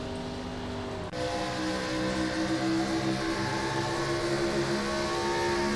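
A 2003-era NASCAR Gen 4 stock car engine drones in the iRacing simulation at Atlanta, a steady, buzzing, harmonic-rich roar with a sudden shift in pitch early on, then holding a constant loud tone.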